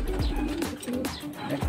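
Racing pigeons cooing up close, a few soft throaty rolling coos in quick succession, loud and alone without any talk.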